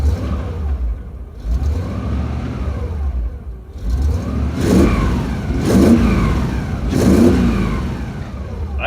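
Engine of a Chevrolet C10 squarebody muscle truck with a 4-speed revs on the throttle, rising and falling in three or four loud close sweeps over a steady low rumble.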